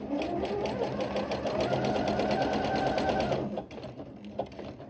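A sewing machine runs a continuous, close, buzzing stitch while elastic is sewn edge to edge onto a Delta skirt, stopping abruptly after about three and a half seconds and leaving light handling noise.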